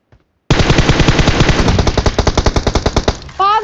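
Loud automatic gunfire from the PUBG Mobile game on the Livik map rattles in a fast, sustained burst of shots, which slows into separate shots before a brief voice comes in.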